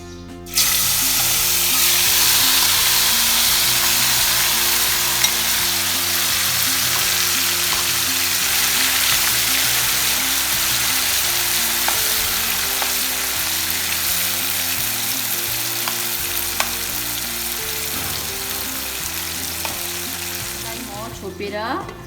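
Meat, for an Afghani chicken curry, sizzles and spits steadily in smoking-hot oil over a low gas flame, a loud continuous frying hiss with faint scraping or stirring; no one speaks.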